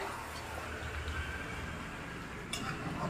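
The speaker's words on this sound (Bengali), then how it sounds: "এইভাবে চিকেনটাকে আরেকটু এইভাবে নেড়ে দিতে হবে।" Chicken for biryani is stirred in a pot, giving soft scraping and clinking of a spoon over a low, steady sizzle, with a sharper utensil knock near the end.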